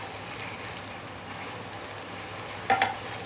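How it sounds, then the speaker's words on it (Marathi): Okra (bhindi) frying in a pan in a home kitchen gives a steady soft sizzle, with a brief louder clink near the end. "भेंडी छान फ्राय झालेली आपली,"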